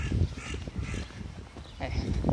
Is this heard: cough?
no